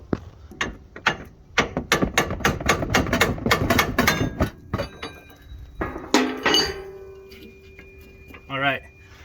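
Repeated metallic hammer strikes ring out in a fast, irregular series against a car's coil spring during a Crown Vic front lift, then give way to scraping pry-bar clanks and a brief creaking rattle, close and sharp.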